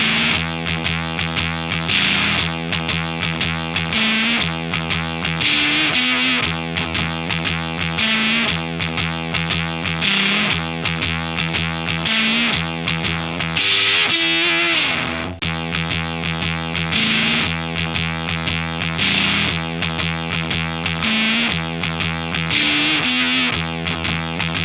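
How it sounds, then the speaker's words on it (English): Reamped fuzz guitar track played through proper impedance matching, a thick, saturated distorted guitar running continuously and loud on its own with steady chordal riffing throughout. "Let's listen now to a fuzz track so we can actually hear how proper impedance matching sounds like."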